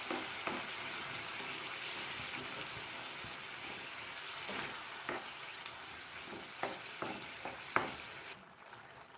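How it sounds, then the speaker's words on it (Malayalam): Pasta sauce for Indian-style macaroni bubbling in a pan, a continuous hiss of simmering with a scatter of sharper pops and ticks near the end. "ഇപ്പോൾ നല്ലതുപോലെ തിളച്ച് വന്നിട്ടുണ്ട്"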